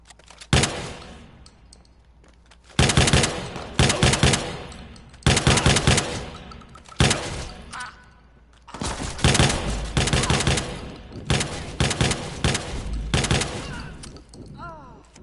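Bursts of automatic gunfire from the video game Watch Dogs 2 come in several loud, rapid volleys separated by short pauses, with rattling shots in each burst and quieter gaps between.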